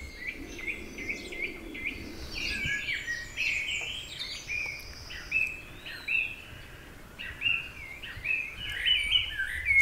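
Birdsong fills a tranquil village churchyard in Cudham: several small birds chirp and trill in overlapping bursts throughout, fairly close and clear over a soft background, with no talking.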